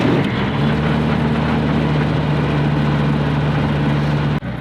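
A Rotax 915 aircraft engine runs steadily after starting, a loud, continuous propeller-driven drone close to the microphone that holds constant for several seconds before cutting off abruptly at the end.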